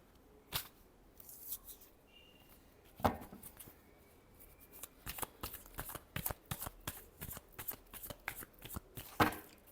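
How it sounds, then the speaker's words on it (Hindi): Tarot cards are shuffled in a run of crisp riffles and slaps, faint and close, with irregular bursts growing busier toward the end and no talking. "Last shuffle."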